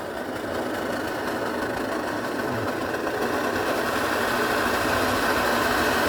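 A liquid-fuel camping stove, an MSR Dragonfly or Coleman 533, burns indoors with a steady, loud roaring hiss that holds constant throughout without pauses.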